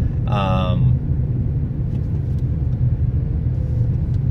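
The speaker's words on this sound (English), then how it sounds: "Sorry, I'm stuck in traffic here." Car in road traffic, heard from inside as a constant low engine and road rumble, with a brief voice near the start.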